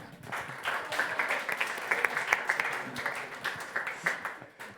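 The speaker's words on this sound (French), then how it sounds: "On peut les applaudir" An audience applauding volunteers called up at a church talk: moderate, uneven clapping from a room of people, rising and thinning over several seconds with scattered sharper claps.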